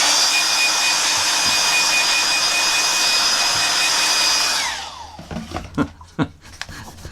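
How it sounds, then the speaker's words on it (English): A hairdryer blows steadily and loudly on a drawing for several seconds with a constant whine, then winds down and stops, followed by a few soft knocks and rustles. "I'm just going to get my hairdryer onto that."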